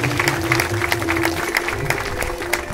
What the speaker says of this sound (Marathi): एकदा जोरदार टाळ्या होत्या वैभवशाली चिपळूणसाठी.